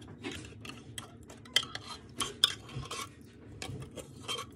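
A metal utensil scraping and tapping inside a can to get the last of the contents out, with a quick irregular series of close clinks and scrapes.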